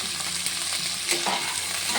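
Figs frying and being stirred in a pan after tempering spices and browned onions, a steady close sizzle broken by scraping stirs and one louder clatter near the middle, with no voices.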